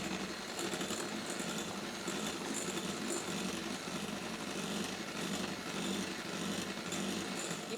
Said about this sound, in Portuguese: Já não precisamos mais da batedeira aqui para a massa do bolo